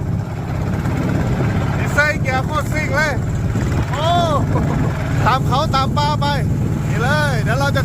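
A vehicle engine revs hard while climbing a hill on a trip to gather bamboo, a steady loud drone throughout, with excited voices shouting over it in bursts.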